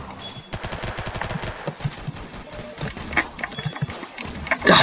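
Rapid gunfire from a gun in the Roblox game Arsenal crackles in quick bursts of close, sharp shots, broken by short pauses and ending in a louder burst.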